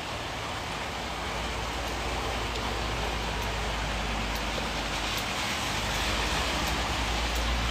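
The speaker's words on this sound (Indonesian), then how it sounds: "Hujan." Steady rain falls near a house close to Fortune Bridge, a dense continuous hiss with no voices, holding at an even level throughout.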